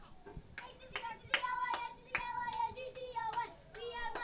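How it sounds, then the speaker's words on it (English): A crowd at a high school boys' soccer game between Arlington and Melrose claps in a loose rhythm, and voices chant and shout along, fairly distant and moderately loud. "Getting some chants here from the crowd"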